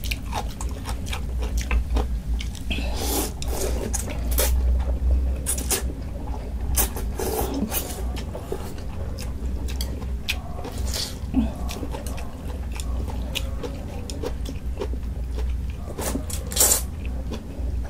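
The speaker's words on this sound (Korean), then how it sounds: "국수 오랜만에 먹는 게 맛있다." Someone eats janchi guksu, a Korean noodle soup, with close, irregular bites, slurps and chewing clicks over a low steady background hum.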